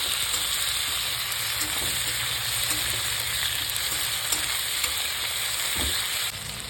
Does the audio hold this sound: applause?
no